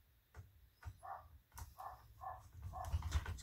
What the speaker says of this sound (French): Ils jappent après tout ce qui passe devant.